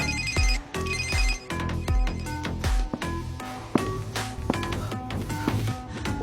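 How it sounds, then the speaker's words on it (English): A mobile phone ringtone plays loudly and close, a bright melodic tune of repeated rising tones over a rhythmic beat that continues for several seconds without talk. "but her phone suddenly rang."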